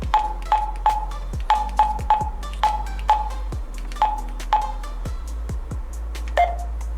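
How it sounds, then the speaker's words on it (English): Keypad presses sound as a string of short electronic beeps for entering a DTMF code, about a dozen crisp tones in an uneven rhythm, each with a soft click, close and clear over a low steady hum. "Use the keypad to input the desired DTMF code to be sent."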